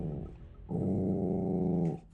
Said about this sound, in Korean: 그리고 시작된 으르렁.